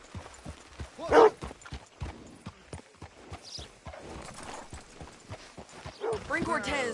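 Horse hooves clip-clop in a Western-style video game, a rhythmic series of steady, fairly close hoof strikes while characters talk over them, with a brief loud sound and a horse-like whinny near the end.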